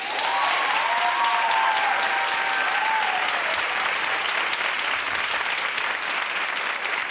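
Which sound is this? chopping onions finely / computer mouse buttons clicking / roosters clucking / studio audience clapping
studio audience clapping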